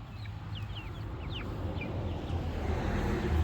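Chickens cluck softly near a poultry coop, scattered calls over a steady low outdoor rumble that grows slightly louder.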